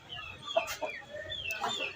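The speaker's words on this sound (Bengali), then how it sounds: "এখানে দেখেন কি সুন্দর সুন্দর মোরগ" A hill-breed rooster at a poultry market gives a few short, close clucks over quiet background, with a faint squeak or voice fragment in between.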